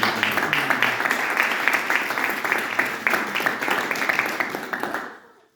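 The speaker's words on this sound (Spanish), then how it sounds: "Dale un aplauso al Señor." A church congregation claps together in a steady, fairly close round of applause that holds for several seconds, then quickly fades to silence.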